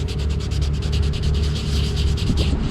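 Yellowed plastic on a Compaq 5280 laptop is scrubbed in a rapid, steady back-and-forth rhythm, close and fairly loud, with a rough rubbing texture and no talking.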